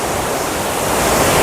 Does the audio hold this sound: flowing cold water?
yes